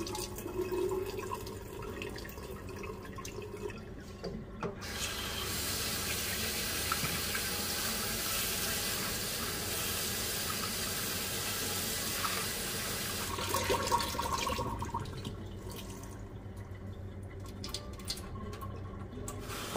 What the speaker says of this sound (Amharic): በደንብ አድርገን አጥበን ቆሻሻውን አዋራውን እናስወግዳለን ማለት ነው።